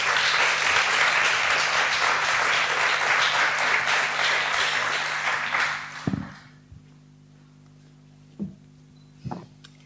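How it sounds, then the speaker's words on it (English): An audience claps warmly for a speaker coming on stage at a startup event, a dense burst lasting about six seconds before fading into quiet with a few handling knocks and thumps. "how about we give him a round of applause and bring him up?"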